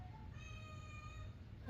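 A house cat lets out one drawn-out meow, faint and somewhat distant, in a quiet room with no talking.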